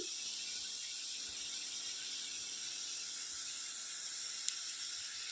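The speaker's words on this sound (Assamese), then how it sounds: "আৰু পকৰীকেইটা অলপমান ৰংচুৱাকৈ ভাজিম।" Steady high-pitched hiss of lentil pakoras frying in hot oil in a wok, continuous and even throughout, with no voices.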